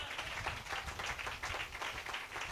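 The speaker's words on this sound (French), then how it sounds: "Donnez une main d'acclamation." A church congregation clapping together, a short burst of rhythmic, fairly faint applause with evenly spaced claps.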